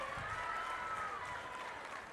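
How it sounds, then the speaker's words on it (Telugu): A crowd at a Stree Shakti political rally for CM Chandrababu claps steadily, a soft continuous patter of applause heard from a distance. "ఇచ్చుంటే గట్టిగా చప్పట్లు కూడా చెప్పండి"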